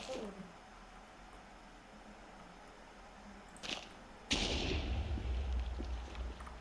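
Minecraft TNT from the Lucky TNT mod, an Ocean TNT variant, detonates in the game with a short crack and then a loud, sustained rumbling blast that keeps roaring for a couple of seconds, close and heavy.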